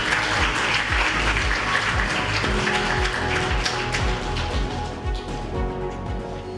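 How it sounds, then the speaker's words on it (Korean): Audience applause welcoming the next speaker at a World CM Day ceremony and competition, dense steady clapping from a large crowd throughout that eases slightly near the end. "큰 박수 부탁드리겠습니다."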